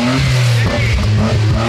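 A sports car engine in Japan revs loudly and close, its drone rising and falling in several surges over a steady low rumble, with a brief voice in the background.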